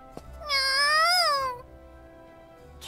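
A cartoon cat in the video game Super Neptunia RPG gives a single drawn-out, rising and falling meow, loud and close, with quiet game background before and after.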